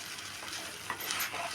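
Beetroot halwa stirred in a sizzling pan, a soft scraping and stirring over a faint steady fry, close and quiet, with no talking.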